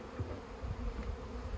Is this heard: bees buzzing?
yes